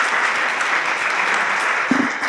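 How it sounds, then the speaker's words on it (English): Conference attendees applaud panel participants after a discussion on AI challenges and regulation, giving a brief, steady burst of clapping that stays even throughout. "An applause here for the participants."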